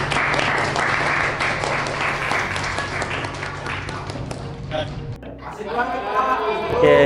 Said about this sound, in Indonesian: tepuk tangan dong buat Muza